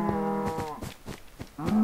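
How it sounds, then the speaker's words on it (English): A cow in the Minecraft video game gives two close, clear moos, one at the start and a second near the end, with no talking over them. "Oh, shut up, cow."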